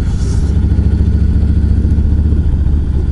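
Harley-Davidson Street Bob (FXBB) motorcycle riding with freshly changed oil, a loud, steady low engine rumble with a pulsing thump, close and continuous, with no talking.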